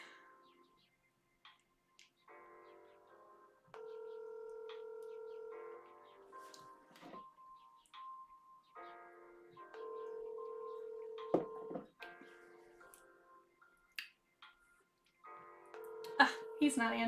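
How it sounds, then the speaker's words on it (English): Dialing and ringback tones from a Light Phone call: repeated steady beeping tones in several spaced bursts, with intermittent clicks and handling noise, faint and in a quiet room, with a person speaking between them. "I'll demonstrate calling on the light phone."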